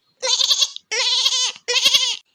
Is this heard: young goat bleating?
yes